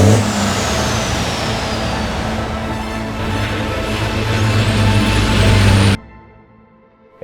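A British Truck Racing Championship race truck's engine roars and revs loudly and continuously at close range, rising steadily before cutting off abruptly, with no talk over it.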